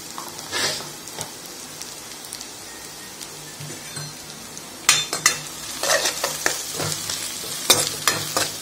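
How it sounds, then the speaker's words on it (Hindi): Chopped ginger, garlic, curry leaves and green chillies fry in a pan for bachelor-style veg Manchurian, a continuous crackling sizzle with bursts of stirring and scraping that turn louder and busier halfway through. "हमें इसे थोड़ा सा भून लेना है।"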